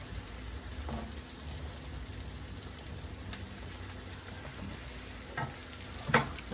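Peppers and onions cook down in a pan with a soft, steady sizzle, fairly quiet and close, with a few light clicks and pops scattered through and no talking.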